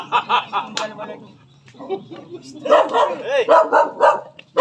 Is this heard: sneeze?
no